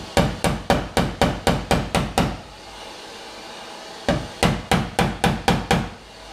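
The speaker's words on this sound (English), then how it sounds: "I'm just going to use the flat part of the hammer so I don't damage it too much" Rapid blows from the flat face of a metal hammer on a car fender, two quick bursts of about eight strikes each, separated by a brief pause, loud and close.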